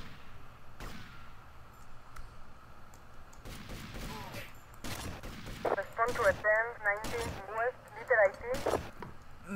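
Gunfire in Grand Theft Auto Vice City, several sharp shots scattered through the clip alongside a chirpy warbling game sound and other in-game noise, with speech present.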